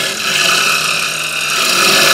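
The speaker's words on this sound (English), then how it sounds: "I think I'm gonna have to hit it with some rough sandpaper and work my way down a bit" Rough sandpaper rubs against a soft limewood segmented bowl turning on a woodworking lathe, making a continuous, close, even hiss with slight swells in loudness and no talk.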